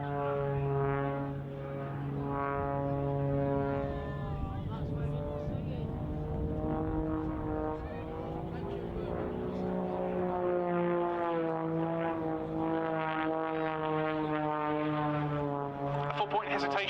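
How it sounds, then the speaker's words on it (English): An Extra 330SC aerobatic plane drones steadily through an air display, its engine pitch rising and falling as it rolls and climbs, with a commentator talking over it throughout. "a 4-point hesitation roll showing us the very crisp handling of the extra, as Mélanie then pulls vertical once again"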